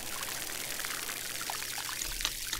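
Watering plants in the video game Grow: Song of the Evertree, a continuous soft pouring and trickling water stream that runs throughout at moderate level, with no talking.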